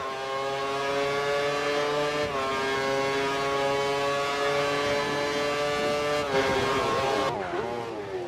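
A race car engine drones loud and steady with strong harmonic tones, shifting pitch a few times near the end as the car brakes for the final corners into the pits.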